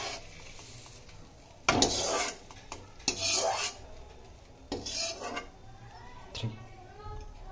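Spoon scrapes and clinks against a pan and plate as a cooked cauliflower mixture for gobhi kofta is transferred, several scraping bursts of metal on metal, moderately close, with a quiet background.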